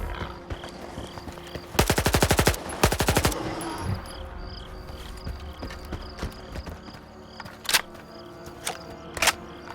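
Two quick bursts of rapid automatic gunfire ring out loudly in the video game S.T.A.L.K.E.R. 2, followed by scattered single shots and clatter against a low ambient rumble.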